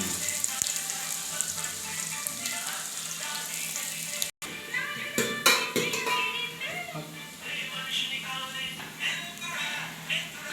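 Thinly sliced onions added to garlic browning in hot oil for a paneer curry, a steady sizzle with stirring clatter, a brief cut, then a voice speaking over the frying.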